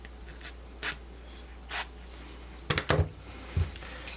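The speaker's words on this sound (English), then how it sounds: "Okay, so let's just spray a little bit." Short hissing bursts from a spray bottle of alcohol misted onto an LG G Pad III 8.0 tablet during a screen repair, several separate puffs with light handling clatter between them, close and fairly quiet.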